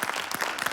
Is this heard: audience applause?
yes